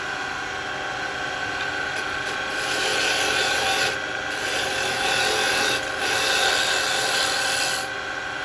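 A rough chunk of firewood spins on a wood lathe as a round carbide chisel shaves it, producing a constant close scraping rasp over the lathe's hum that swells in slightly louder passes.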